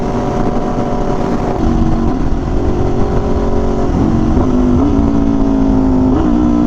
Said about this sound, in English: downshifts are so nice on this bike